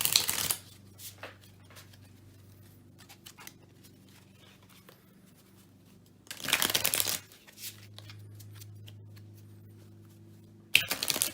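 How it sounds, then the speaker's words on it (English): A deck of Lord of the Rings LCG cards is riffle-shuffled up close, with three sharp, fluttering bursts separated by long quiet stretches of faint handling and a low hum. "I got it shuffled several times"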